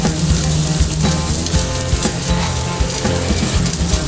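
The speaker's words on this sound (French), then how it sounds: "le squash on va le mettre à griller" Squash grilling on a restaurant plancha, a loud, constant sizzle and crackle of frying close up, with scraping stirs and no talk.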